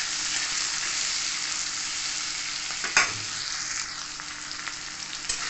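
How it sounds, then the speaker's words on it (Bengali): Ivy gourd (kundru) frying lightly in oil with salt and turmeric, giving a steady close sizzle with a single stirring clatter partway through, and no voices. "কুঁদরিটা আমি বেশি ভাজবো না, সামান্য ভাজতে হবে।"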